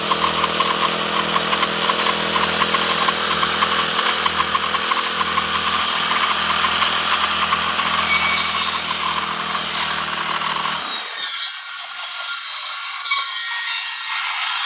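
A Honda grass trimmer cuts grass close to the microphone, its loud engine whining steadily at high revs for most of the time. Near the end the low engine note drops away and a rough, noisy whir remains.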